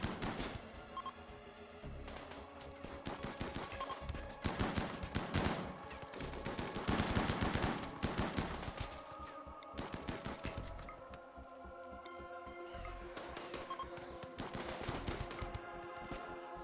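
Bursts of rapid gunfire from a RimWorld firefight, rattling automatic volleys repeating almost without pause over a busy background, fairly dense and continuous.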